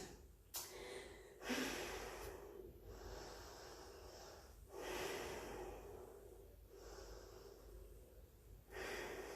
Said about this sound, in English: Just take a couple of deep breaths before we move to the next movement.